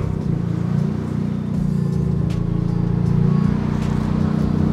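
A modified Honda Civic Turbo hatchback with a switchable racing exhaust rumbles in a low, steady drone close by, rising slightly in level without sharp revs.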